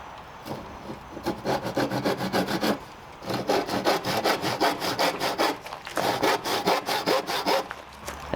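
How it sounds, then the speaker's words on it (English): A handsaw cuts through wood for rafters or roof decking on a small studio build, with steady rhythmic rasping strokes, loud and close, pausing briefly before resuming; no talking. "I'm using the handsaw"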